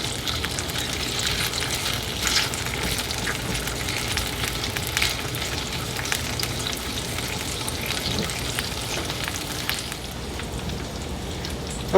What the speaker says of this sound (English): Canadian bacon's looking really good, so we're just going to flip this, get the other side.